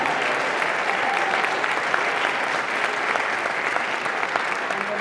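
An audience at a high school band concert applauds after band solos with steady, dense clapping at an even level from start to finish.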